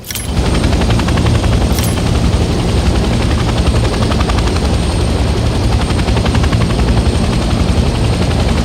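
A helicopter flies steadily in the Vietnam-era shooter Hell Let Loose, its rotor and engine roar loud and continuous, opened by a couple of sharp clicks, with no voices.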